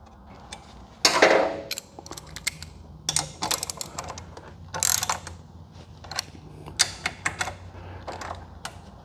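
Ratchet with a 14mm socket tightening touring peg bolts on a Suzuki GSX-S1000GT motorcycle, heard as several close bursts of rapid clicking separated by short pauses, with no talking.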